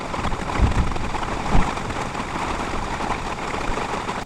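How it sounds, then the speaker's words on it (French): Heavy thunderstorm rain falls steadily and loudly throughout, a dense continuous hiss with a brief low rumble near the start, heard from inside a camper van. "Ça va tomber fort. Enfin un gros orage quoi."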